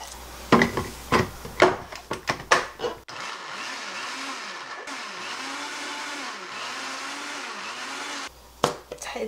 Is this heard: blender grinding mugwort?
yes